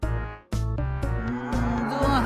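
A cow moos several times in a row, loud and close, each long lowing call separated by brief pauses, with no talking over it.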